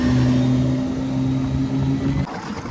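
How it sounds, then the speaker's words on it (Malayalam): A boat driven by a Suzuki engine pulls hard, its motor holding a steady humming drone that rises briefly before cutting off abruptly near the end. "സുസൂക്കിയുടെ എഞ്ചിനുള്ള ഒരു അടിപൊളി ബോട്ട്."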